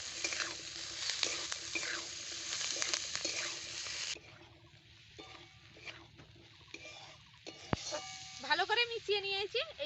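Turmeric and chili powder mixed in a frying pan for flattened-rice pulao, a loud hiss of frying with stirring scrapes that abruptly drops to quieter clinks and light scraping, then brief stirring returns near the end.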